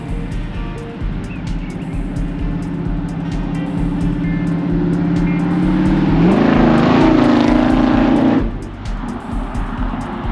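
A van drives steadily with a loud, continuous engine and road drone. Partway through, the engine pitch rises as it revs up, then drops back.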